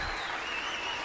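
Steady applause from a small crowd, a dense even patter of clapping heard faintly and continuously without pause.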